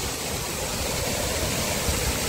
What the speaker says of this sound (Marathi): छोटा धबधबा आहे पण छान आहे.